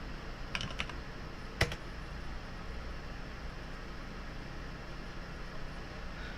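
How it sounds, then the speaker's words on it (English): Faint typing on a computer keyboard into a terminal, a few scattered key clicks over a low steady background hiss. "you can just type code into the terminal"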